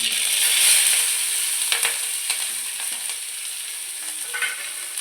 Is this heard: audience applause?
no